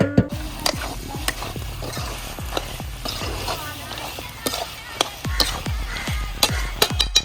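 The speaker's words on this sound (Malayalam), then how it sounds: "പോർക്കിന്റെ ആ നെയ്യ് തന്നെ ആ നെയ്ക്കകത്ത് കിടന്ന് വെന്തോണ്ടിരിക്കും" Chopped pork leg frying in its own rendered fat, a steady close sizzle broken by repeated sharp clinks and scrapes of stirring against the pan.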